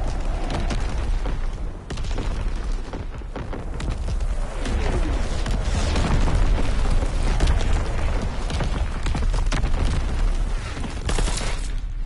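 Heavy artillery barrage in a World War II first-person shooter, with dense rumbling blasts and crackling gunfire rolling continuously and loudly, forming a thick battlefield din throughout.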